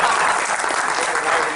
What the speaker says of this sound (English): Big round of applause for Mr. Birla.